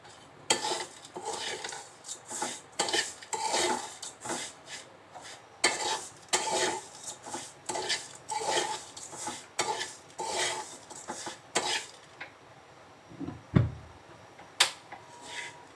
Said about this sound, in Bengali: সিমাইটা একটু ভেজে নিব